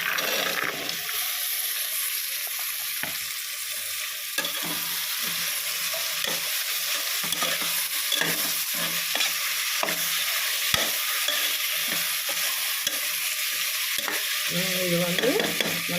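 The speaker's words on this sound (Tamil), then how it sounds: "போட்டு இப்போ நல்லா வதக்கி இப்போ தேவையானது காயெல்லாம் நம்ம போட்டுக்கணும்" Vegetables with tomatoes and paste sizzle and fry in a pan, with a continuous loud hiss and repeated scraping stirs through the whole stretch. No one speaks.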